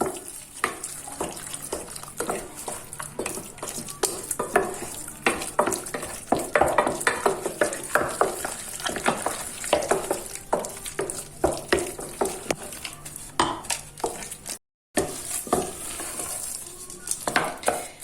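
A spoon works beaten egg into thick, sticky choux pastry dough for profiteroles, giving a steady run of close, wet slapping and scraping strokes against the pot for most of the stretch, with a brief gap near the end.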